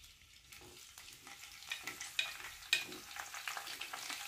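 Curry leaves dropped into hot oil while cooking a lamb kidney curry, a soft crackling sizzle that grows louder, with a few sharp pops and light stirring scrapes, close and fairly quiet.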